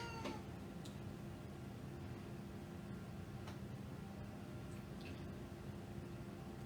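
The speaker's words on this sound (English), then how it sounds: "Here's the meowing cat." A cat meows a few times at a distance, faint and brief calls over a steady background hiss, with no speech.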